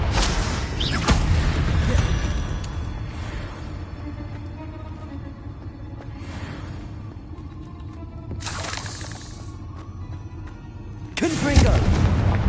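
Confringo spell blasts in Hogwarts Legacy, several sharp explosive bursts at intervals, the loudest near the start and end, over a low rumbling game backdrop.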